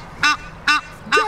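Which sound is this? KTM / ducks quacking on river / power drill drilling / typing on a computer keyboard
ducks quacking on river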